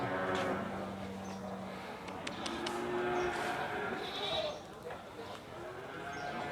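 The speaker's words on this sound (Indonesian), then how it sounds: "Lebaran jalan-jalan di pasar wage, pasar hewan Siono Harjo" Bustling outdoor livestock market in Indonesia: sheep or goats bleating amid steady crowd chatter and background noise.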